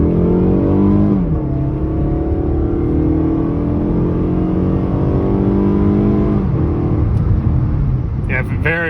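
A 2014 Mazda 6 engine pulls hard at full throttle, its loud rising drone climbing through the revs with a brief dip at a gear change, heard from inside the car.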